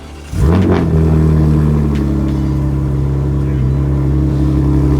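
BMW M2 engine starting up, a sharp starter crank and loud bark that settles into a deep steady idle rumble close by, with voices faint underneath.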